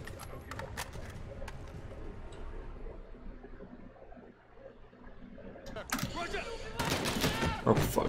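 Bursts of automatic gunfire and shots in the video game Call of Duty Modern Warfare, heavy rattling volleys early, a quieter lull in the middle, then loud close firing building again toward the end.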